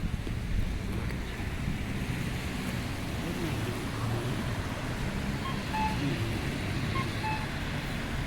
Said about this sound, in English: it's kind of windy too